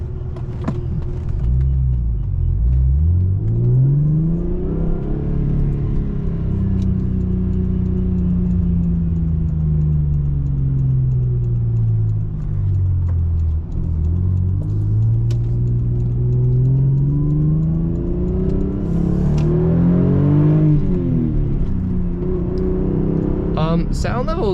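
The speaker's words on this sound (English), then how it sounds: "There's a lot of intake noise." Manual Lexus SC300 with a 2JZ-GE inline-six heard from inside the cabin, droning engine and intake noise rising and falling through repeated gear pulls and shifts, loud and steady throughout.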